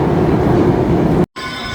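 A Paris metro train rumbles loudly into a station with a steady roar and rail noise. The roar cuts off abruptly and a quieter tonal hum follows.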